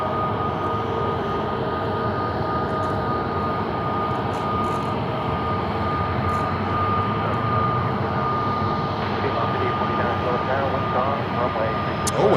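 An Airbus A321neo jet at Charlotte airport gives a sustained engine roar that holds steady throughout, with people talking over it.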